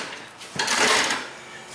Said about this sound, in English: Open the door about midway.